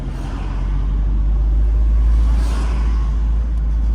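Car driving in city traffic, heard from inside as a loud, steady low engine and road rumble that swells slightly midway, with no voices.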